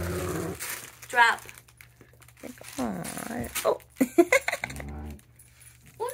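A dog plays with a new toy, letting out low, rough growls in short bursts mixed with panting and rustling or jangling from the toy. A person speaks briefly between the sounds.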